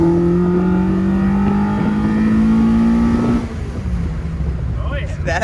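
A car engine in a tuning session, running rich, revs with a rising, steady drone that climbs then drops back to a rougher idle, loud and close, with faint voices.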